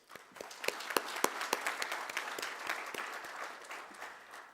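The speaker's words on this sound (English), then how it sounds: "I want to give another round of applause" A conference audience at a plenary welcome session applauds together, a dense patter of many hands heard from a moderate distance, swelling briefly and then tapering off.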